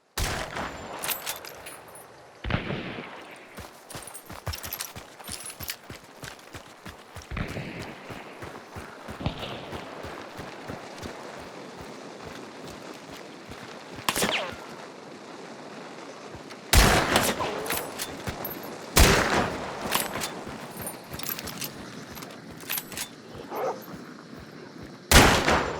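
Gunfire in the Hunt: Showdown video game: loud, sharp shots cracking out singly and in clusters across the clip, with quieter ambient game noise between them.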